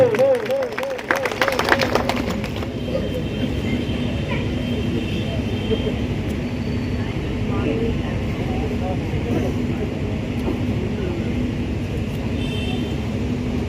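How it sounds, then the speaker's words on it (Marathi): A crowd at a political election rally in a village district claps hard with both hands raised, a dense, continuous roar of applause with a brief rattling burst at the start, loud and sustained. "दोन्ही हात वरती जोरदार टाळी"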